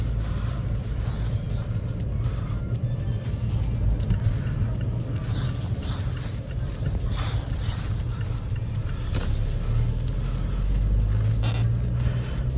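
A Mazda 3 drives along gently with a constant low engine and road rumble, heard from inside the car, steady throughout.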